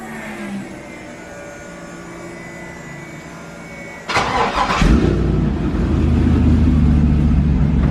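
A Chevrolet C10 truck that has been sitting cranks and fires up partway through, its engine catching with a burst and then settling into a loud, steady idle after a quiet stretch.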